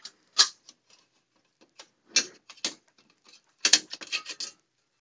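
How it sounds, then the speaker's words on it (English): A metal ATX power supply case is pulled apart after its screws are removed, producing a few faint scattered clicks and scraping rattles in short bursts. "And we'll pull the case off."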